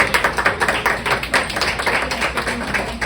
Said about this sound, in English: Let's have another round of applause for Jade.